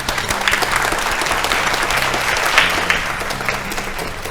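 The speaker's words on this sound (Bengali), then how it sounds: "জোরে হাততালি সবাই মিলে একবার।" Studio audience at a Bengali family game show claps loudly and steadily, a dense wash of applause sustained throughout with no speech over it.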